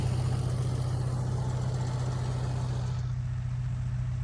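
A steady, low tractor engine drone runs throughout, a heavy diesel rumble pulling a trolley at a constant pace in a harvested field, fairly close, with no talk.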